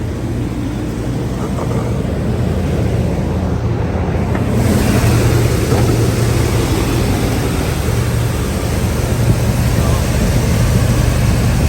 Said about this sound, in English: Let's gonna plug our blower back in.